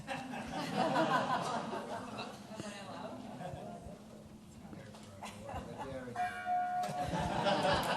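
A gong rings out at a startup pitch event, a lingering metallic tone heard among laughter, chuckles and talk from the crowd in a large room.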